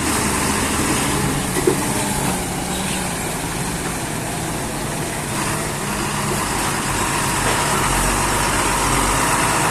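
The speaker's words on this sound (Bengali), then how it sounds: "পাশে ট্রাকের শব্দ হচ্ছে" A steady, loud engine rumble and road noise fill the whole stretch as a heavy truck passes close by at dawn.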